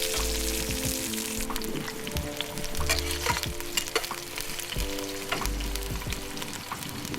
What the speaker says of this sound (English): I just let them sizzle in the pan for a couple minutes and give it a stir